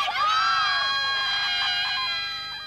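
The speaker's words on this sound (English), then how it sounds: "A handful of hardy fans had kept up the chant all night, but as day dawned, the crowd swelled and so did the noise" A large crowd of fans outside a London hotel, loud and continuous, with high shrill screams and shouted cheering carrying over one another throughout, no clear rhythmic chant standing out.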